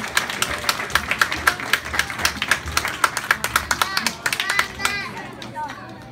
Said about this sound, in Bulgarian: Аплодисменти за трети клас.